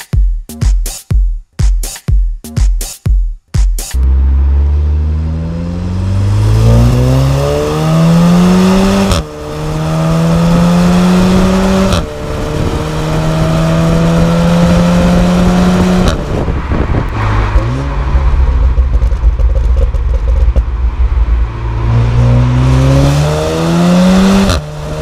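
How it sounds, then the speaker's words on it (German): A white VW Golf 7R with DSG and 4Motion growls through its stock four-pipe exhaust in race mode, first with sharp repeated blips, then loud, close acceleration rising through the gears with clear pitch drops at each shift. "Erkennen tut man das an der 4-Rohr-Auspuffanlage, die auch Serie ist und im Race-Modus dann auch ein Tick lauter wird und auch richtig gut klingt"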